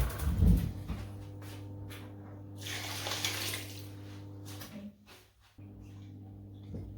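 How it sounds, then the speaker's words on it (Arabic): Water from a tap running steadily into a pan in a home kitchen, close by with a constant hum underneath, briefly stopping and then resuming; no speech. "وغادي نوضع عليهم غير واحد شويه ديال الماء، غير شويه"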